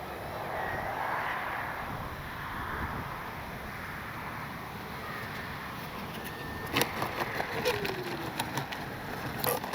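Freewing twin 70mm AL-37 RC jet in flight, a steady broad whooshing roar that holds for several seconds at moderate distance, with wind buffeting on the microphone and a few sharp clicks near the end.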